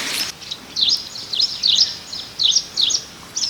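Sparrows in the isolated village of Kohonawala, Sri Lanka, give short, bright chirps in quick bursts, repeating steadily against a soft outdoor background hiss.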